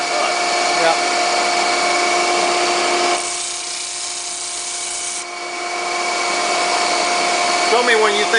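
A segmented wooden bowl is sanded on a lathe, giving a steady, loud, hissing abrasive rush that drops in intensity midway and then returns, with no talking.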